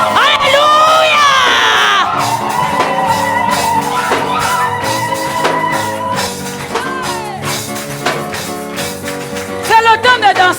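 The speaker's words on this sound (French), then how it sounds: "Est-ce que tu veux pousser les cris de joie?" Inside a church, a congregation lets out loud, joyful shouts and whoops of praise over music. Voices rise and fall in waves, and a burst of cheering comes at the end.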